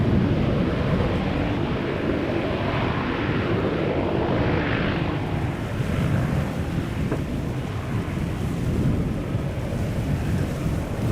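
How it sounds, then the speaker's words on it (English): Jet airliner engines spool up at Schiphol Airport in a steady, loud broadband roar that holds throughout, with some wind noise over the microphone. "Come on, spool up those engines a little bit."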